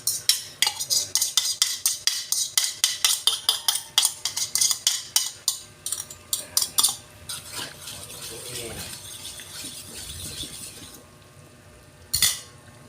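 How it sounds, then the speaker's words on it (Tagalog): Egg stirred into softened tomatoes in a pan for sarsyadong tilapia: a quick run of rhythmic metal utensil scrapes and clinks against the pan, then a gentle sizzle with a few scattered taps and one final clank. "dahil malambot na po yung ating kamatis, lalagay na po natin yung ating itlog"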